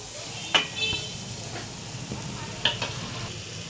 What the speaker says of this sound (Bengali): এদিকে আমি কড়াইটা বসিয়ে দিলাম, নারকেলের পুরটা বানাবো।